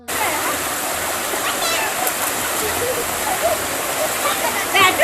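A countryside waterfall in Sri Lanka gives a steady, broad rush of falling water that holds evenly throughout, with faint chirps and a slight swell near the end.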